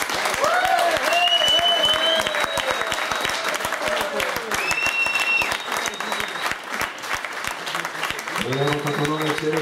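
An audience gives loud, sustained applause for a blues band at a CD launch concert. Sharp, dense clapping carries on throughout, mixed with whistles and cheering voices.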